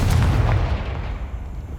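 Confringo explosive spell blast in Hogwarts Legacy, a single heavy booming burst with a sharp attack and deep low rumble that decays over about two seconds.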